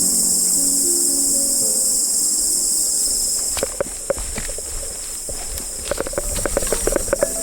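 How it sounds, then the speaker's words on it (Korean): A loud, unbroken wall of shrill cicada and insect buzzing and chirping fills the air on a Jirisan mountain trail, while scattered footsteps and clicks join in over the last few seconds. "풀벌레 소리가 이렇게 요란한가요? 때늦은 매미가 이렇게 많았단 말인가요?"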